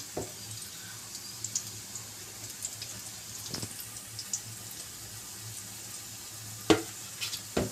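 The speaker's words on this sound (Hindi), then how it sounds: "तो अब हम फुल्कियों को जो है ना वो फ्राई कर लेते हैं।" Dahi phulki batter fries in hot oil with a soft, steady sizzle, and a few light clinks and taps of a utensil break in occasionally, with no voices.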